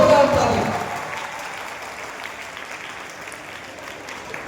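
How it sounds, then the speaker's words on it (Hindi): Children in an academy auditorium burst into loud applause that peaks at once and then tapers to a lighter, scattered clapping that lingers throughout. "तो जोरदार ताली।"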